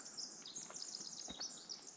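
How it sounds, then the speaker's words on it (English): Faint, high chirping and twittering from several birds in a moss forest by the South Fork Hoh River, Washington, blending into a steady wash of outdoor background hiss. "You can hear the birds."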